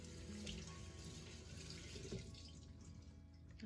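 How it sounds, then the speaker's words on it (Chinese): Cold tap water runs steadily into a basin while a towel is rinsed by hand, a continuous close splashing wash with no voices. "然后我们再把毛巾洗一下，都是冷水，不用热水啊"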